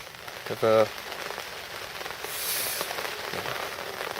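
Steady heavy rain hissing on a surface throughout at Wadmill Lake during a carp fishing match, with a brief tonal bump near the start and faint background sounds.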